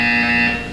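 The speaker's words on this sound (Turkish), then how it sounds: "When you hear the buzzer, look down at the floor." Steady electronic alarm buzzer from the video game Portal 2, one loud continuous harsh tone with no talk over it.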